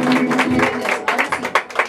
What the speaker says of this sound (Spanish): Ese aplauso bien bonito que se escucha